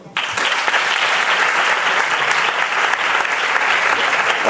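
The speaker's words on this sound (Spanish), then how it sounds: "Un fuerte aplauso." A gala audience at a Caritas charity event in Nerja bursts into loud, dense applause that starts abruptly and holds steady and close throughout, with no talk over it.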